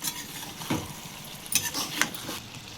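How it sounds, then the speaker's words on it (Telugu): Ginger paste fries in a pan for a brinjal and chana dal masala curry, a soft sizzle broken by a few brief scraping stirs of a spoon against the pan. "కొంచెం అల్లం పేస్ట్ అయితే వేసుకుందాం. వేసుకుని మంచిగా ఫ్రై చేసుకుందాం."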